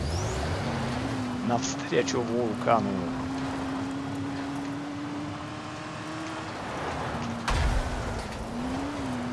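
Car engine drone from the Dying Light game on the Island Raceway mod track, a steady motor hum rising and shifting with gear changes, with someone talking over it.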